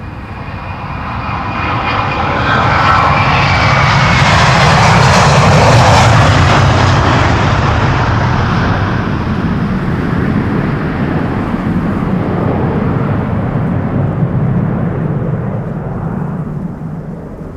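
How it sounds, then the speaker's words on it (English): A Delta Airlines passenger jet takes off from Amsterdam Schiphol's Polderbaan runway, a loud, broad engine roar that swells to a peak and then slowly fades as it climbs away, with no talk. "Next, Delta Airlines flight 75 to Atlanta, Georgia."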